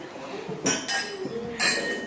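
Drinking glasses clink together during a wedding toast to the bride and groom, a few sharp, bright chimes spaced across two seconds over the murmur of guests talking.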